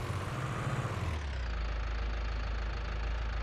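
Small electric tractor in Farming Simulator 19, Swiss Alps setting, parking with a low rumbling engine drone that shifts to a steadier deep hum as it settles, no talk.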